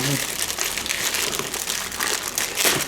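Steady crinkling and crackling of bubble wrap around a computer mouse being unpacked, close by, continuing for a few seconds with faint voices in the background.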